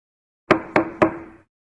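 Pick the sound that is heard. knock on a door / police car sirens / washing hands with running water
knock on a door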